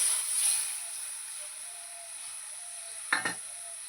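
Small fish curry with spice-paste water stirred in a pan: a quiet, steady simmering hiss, then one short scraping stir of a spoon near the end.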